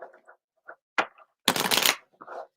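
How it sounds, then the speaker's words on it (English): Tarot card decks are shuffled close by in bursts, with short riffling flutters and taps followed by one longer, dense riffle and a few lighter card sounds, with no talking. "When I'm shuffling the decks"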